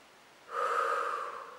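A long, audible breath drawn through the nose and let out through the mouth during a Pilates exercise, one slow cycle heard close and alone.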